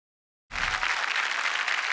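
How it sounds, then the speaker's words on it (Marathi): A studio audience on a comedy show bursts into loud, sustained applause for a journalist guest, starting abruptly after silence and holding steady as a dense wash of clapping. "जोरदार टाळ्या झाल्या पाहिजे"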